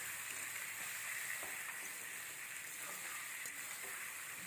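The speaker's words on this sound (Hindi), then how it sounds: "मैंने इसमें शिमला मिर्च को स्लाइस किया हुआ डाल दिया है, बारीक चॉप किया हुआ ये शिमला मिर्च है, और इसको भी अच्छे से मिक्स कर लेंगे।" Sliced capsicum stir-frying with ginger and garlic for veg Hakka noodles, a steady bright sizzle with soft scraping stirs running throughout, close and continuous with no talking.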